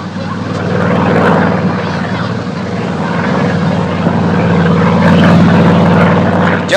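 A helicopter flying overhead in a 1960s bay-side detective film scene, its steady loud rotor and engine drone holding throughout with no speech.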